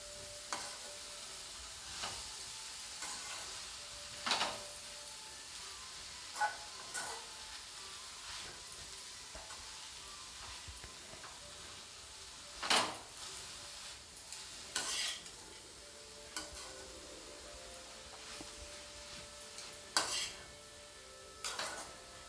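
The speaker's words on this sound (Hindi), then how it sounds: "पालक डालने के बाद मैं इसे अच्छी तरीके से मिला दूंगी।" Spinach being stirred into simmering toor dal in a pot, with quiet scraping and occasional sharp clinks of a spoon against the pan over a soft background hiss.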